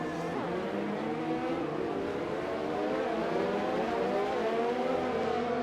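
Race cars in a racing video game run side by side into a braking zone at Italy, engines droning loud and steady, with overlapping engine notes shifting in pitch as they slow.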